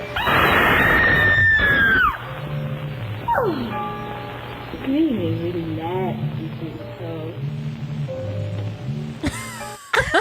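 A woman gives a long, loud, piercing scream at the opening of a vintage horror-host TV show. Eerie music and moaning effects follow, and a brief burst of sound comes right at the end.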